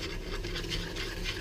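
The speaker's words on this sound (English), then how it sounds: "keep stirring" Steady scraping and swishing of a utensil stirring caramel at a rolling boil in a pan, a soft continuous texture with no speech.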